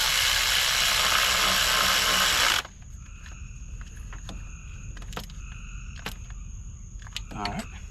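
Ratchet wrench tightening the bolts of a Honda VTEC solenoid during a gasket replacement, fast metallic clicking bursts in short strokes after a loud stretch of broadband noise, close up.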